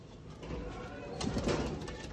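Sialkoti pigeons at a pigeon sale coo softly in a low, rolling murmur that swells slightly near the middle, over steady room noise.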